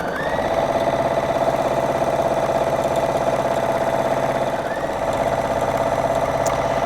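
Husqvarna Viking embroidery sewing machine stitching a felting design, a steady, fast mechanical hum and rapid needle chatter running continuously at close range, with a brief dip before resuming.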